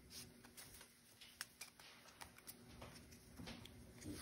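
Pokémon trading cards being shuffled by hand, a quiet run of soft riffling taps and papery clicks at close range, with no talking.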